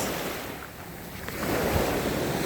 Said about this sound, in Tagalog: Naririnig mo ang mga alon